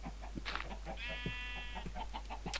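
A single drawn-out sheep bleat in Minecraft, steady and nasal, sounds over busy game background noise and speech.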